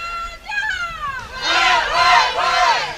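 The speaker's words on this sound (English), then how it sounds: "Spain is cheering again." Spanish team supporters shout and cheer at the European Field Archery Championships team finals in Porec, a close crowd of excited voices rising in loud overlapping bursts over about three seconds.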